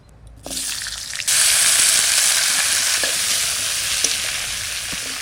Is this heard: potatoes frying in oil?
yes